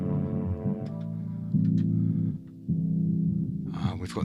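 Electric guitar played through a medium-gain amp model on a BOSS GT-1000, ringing out sustained, slightly driven chords that change every second or so, fairly loud and steady with no talking.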